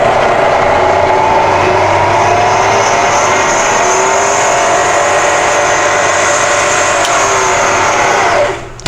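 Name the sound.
milling machine spindle speeding up to 3000 RPM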